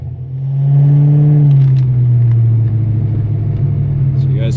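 A 1988 Ford Mustang GT V8 idles loud and close with a deep, steady rumble, briefly swelling then settling back to an even burble.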